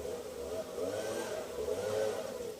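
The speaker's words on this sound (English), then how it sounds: "That's the sound of a fucking chainsaw." Chainsaw running somewhere near a residential neighbourhood, a steady buzzing drone with slight revving swells, continuous and fairly loud throughout.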